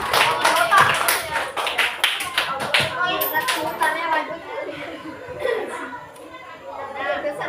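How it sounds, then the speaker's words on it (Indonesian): Primary-school pupils clap together in a coding class, a quick burst of sharp claps at the start that gives way to children's chatter and giggling across the room. "Oke, beri tepuk tangan."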